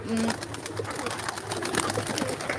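Pigeons coo nearby in soft, low, rolling calls, one distinct coo opening the moment and others following faintly amid outdoor ambience.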